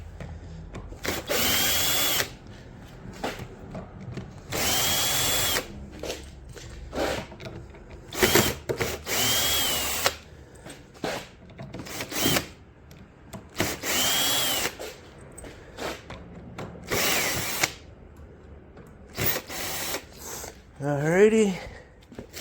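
A power drill backs screws out of a resin pour bar table in a series of short, loud whirring bursts separated by brief pauses, ending with a rising whine.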